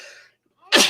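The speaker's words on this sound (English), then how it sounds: "I'm about to sneeze." A single close, loud sneeze bursts out after a brief sharp intake of breath and a moment of quiet.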